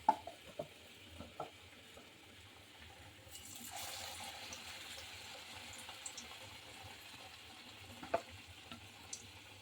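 Potato chops coated in gram flour batter frying in oil in a kadai, a faint, low bubbling sizzle under scattered clinks and taps, swelling slightly in the middle of the stretch.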